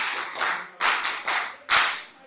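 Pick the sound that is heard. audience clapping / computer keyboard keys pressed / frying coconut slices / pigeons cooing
audience clapping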